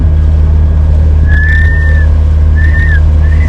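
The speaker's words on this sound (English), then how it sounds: "Stop whistling" Aboard a sailboat in Sweden, thin, wavering whistled notes come and go over a steady low engine rumble, two short melodic phrases rising and falling.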